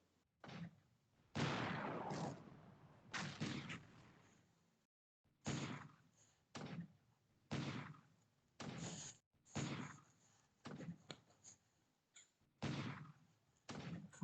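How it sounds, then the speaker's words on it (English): Naval bombardment in the War in the Pacific Admiral's Edition strategy game, heavy booming salvos repeating at irregular intervals, each a muffled thud, faint and distant with gaps of quiet between them. "And here's the bombardment."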